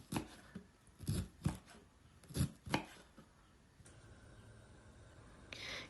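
A knife finely chops red cabbage sharply on a cutting board, a handful of distinct strikes in an uneven rhythm, then quiet rustling.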